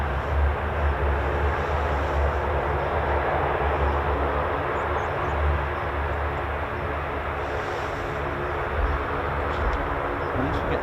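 A US Air Force aircraft taxis at RAF Mildenhall, a steady, moderately distant engine drone that holds level throughout while people talk over it.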